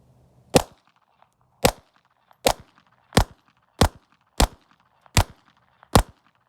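Eight sharp, loud pistol shots from a new 2024 Walther PPK in .32 ACP, fired outdoors at a steady, unhurried pace with short quiet gaps between them.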